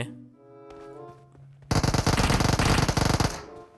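Automatic gunfire in PUBG Mobile: a long, loud, rapid burst of shots that starts abruptly and runs for almost two seconds, following quieter in-game ambience with no talking.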